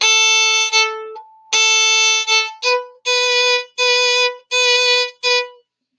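Bowed string instrument playing two measures of a chamber piece in a student ensemble setting, a run of sustained bowed notes with short breaks between them, close and loud, with no talking.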